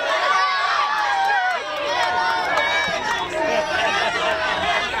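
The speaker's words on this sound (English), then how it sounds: "Come on, let's give them some cheering" Festival crowd at a July 4th event cheering contestants on, steady mix of shouts and excited voices, moderately loud and continuous throughout.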